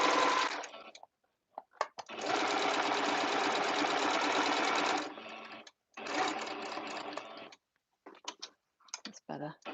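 A sewing machine stitches embroidery samples in several runs of rapid, steady whirring, with short pauses and small clicks between, as the needle is left down to turn the fabric.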